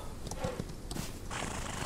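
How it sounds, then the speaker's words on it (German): A video game horse whinnies faintly while a few hoofbeats clop nearby, set against a steady low background hum. "Oh, mein Pferd ist hier."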